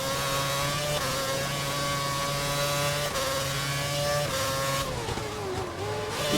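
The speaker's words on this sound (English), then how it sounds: "Pretty sure the car immediately behind me now is Barrichello." Formula One cars race in a 2011 Spanish Grand Prix video game, with engine drone holding steady and loud throughout and a shifting whine as the revs change near the end, no talk over it.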